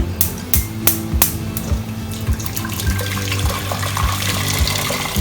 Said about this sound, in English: Pour some boiled water into my pot